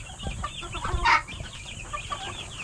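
Chickens clucking in a modified coop holding chicks, with several close, short calls and one louder squawk midway over a faint background hum.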